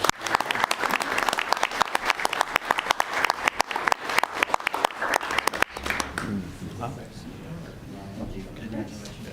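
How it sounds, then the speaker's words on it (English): Audience at a commission meeting gives a sustained round of applause, dense and loud for about six seconds before thinning into scattered claps under murmuring voices. "Let's give these folks one more round of applause."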